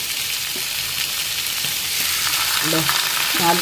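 Fish roasts in a dry pan with no oil, a steady close hiss of frying with a few soft scrapes as the pieces are turned.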